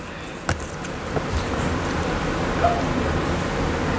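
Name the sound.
dogs barking outside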